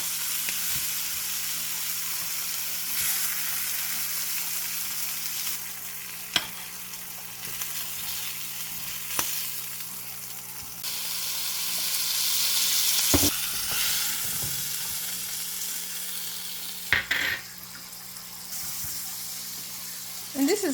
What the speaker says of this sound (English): Fry them for about 2 minutes on each side, and that's it.